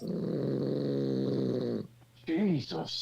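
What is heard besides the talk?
snoring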